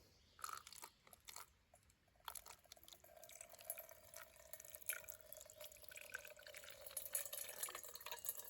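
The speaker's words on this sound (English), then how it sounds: "this is some of the water that we're filtering right here. As you can see, it's muddy. We're going to pour some of it in" Muddy water is poured through a pulled-down cotton filter, producing a soft, continuous trickle and splash with some crackly drips, close by and fairly quiet.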